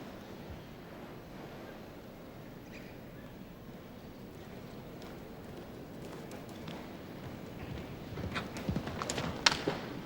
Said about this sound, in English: This horse just covers the ground so well